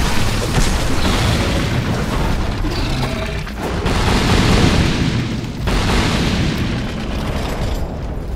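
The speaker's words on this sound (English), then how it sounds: "The fire is super hard to avoid and does a lot of damage." Fiery attack explosions in Dark Souls 2, a dense run of booming bursts that roll continuously at loud, close range across the whole stretch with brief dips between waves, and no talking.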